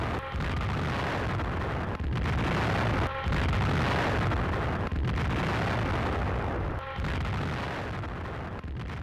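Russian artillery fire and explosions on a battlefield make a dense, continuous roaring rumble of overlapping blasts, loud throughout with brief dips between bursts.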